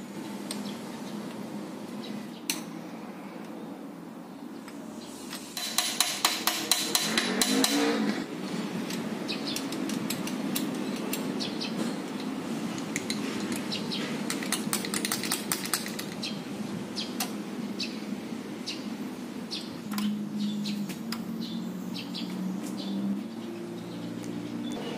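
Engine with a damaged number one connecting rod bearing knocking, a faint, steady rapid ticking with a busier burst of louder clatter partway through, heard alone with no talking.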